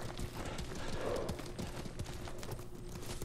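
A horse's hooves clip-clop in Ghost of Tsushima as the horse kicks its feet, a soft uneven patter mixed under a dense wash of game ambience and background noise.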